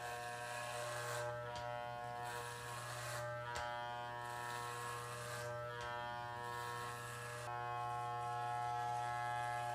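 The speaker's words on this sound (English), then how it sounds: "the clippers along with the 1 attachment at the shortest length" Electric hair clippers fitted with a 1/8-inch (3 mm) guard run in a steady close buzz through a home buzz cut, with the tone shifting briefly as the blade moves through hair, and no one speaking.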